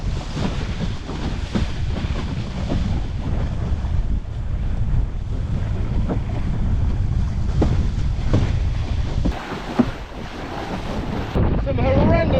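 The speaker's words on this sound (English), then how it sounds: "Some horrendously big waves here." Big sea waves and strong wind roar around a windsurfer sailing alone in open British waters toward the Isle of Man, with heavy buffeting wind on the microphone and repeated crashing surges of water, loud and close throughout.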